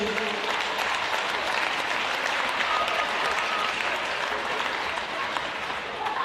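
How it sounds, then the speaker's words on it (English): Steady, dense applause from a large crowd at a netball grand final ceremony in New South Wales, filling the space loudly and evenly throughout with a faint murmur of voices underneath. "One more round of applause, ladies and gentlemen"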